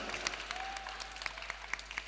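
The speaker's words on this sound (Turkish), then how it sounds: "Kocaman alkış gelsin onlara" Applause for science performers at a space, aviation and science festival, heard as thin, scattered clapping with a few sharp distinct claps standing out over a quiet hall.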